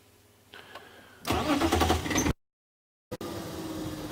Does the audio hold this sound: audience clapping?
no